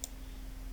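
A single crisp mouse click sounds right at the start, short and close, followed by a faint steady hum.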